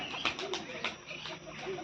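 Soft pigeon coos repeat close by, a low throaty murmuring with faint background noise.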